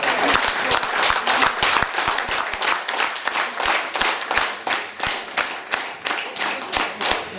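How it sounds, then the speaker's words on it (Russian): Sustained audience applause at a Family, Love and Fidelity Day celebration, dense and loud with many hands clapping, settling into a rhythmic, pulsing clap toward the end. "Аплодисменты, друзья."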